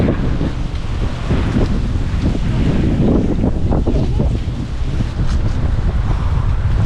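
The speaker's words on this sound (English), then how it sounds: "This wind is intense. This wind is just pushing us around" Strong, gusty wind on a coastal hiking trail along the Kalalau Trail in Hawaii buffets the microphone in a loud continuous roar, with possible surf beneath it and faint voices mixed in.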